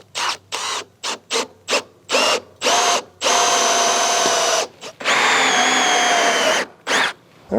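A power drill fitted with a 5/8 inch bit bores a hole for a homemade chicken coop lift, starting in short whirring bursts and then running in longer, loud grinding stretches, close by with no talk.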